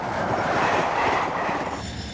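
A British Rail Class 91 high-speed electric train runs along the rails with a loud, steady roar and rumble, close by and continuous, with no voices.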